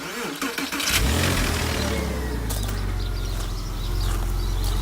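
A Porsche 986 Boxster engine cranks briefly, catches with a rising roar, then settles into a loud, rough idle up close.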